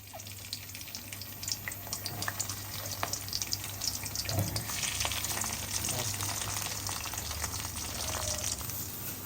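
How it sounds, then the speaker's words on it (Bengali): Eggplant pieces fry in a generous amount of hot oil, giving a steady close sizzle with scattered crackles and occasional stirring or handling noises. "বেগুনগুলো ভাজা হয়ে গেছে"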